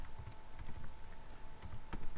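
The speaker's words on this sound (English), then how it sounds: "Type your question in." Keys clatter on a computer keyboard as a question is typed in, a steady run of light, irregular clicks with a couple of sharper strokes, close by with no voices.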